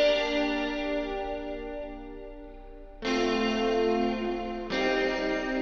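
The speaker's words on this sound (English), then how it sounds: "this is it without the shimmer and just the reverb." Held electric guitar chords washed in spacious plain reverb without shimmer, switching twice with sharp new strums, played alone with no voices.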